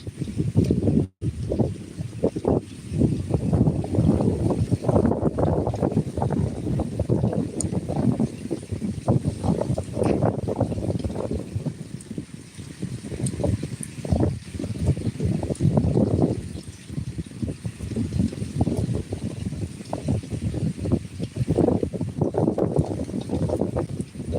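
Heavy rain driven by strong, gusting wind, a continuous loud rushing wash with buffeting wind noise against the microphone, swelling and easing in waves throughout, with no speech.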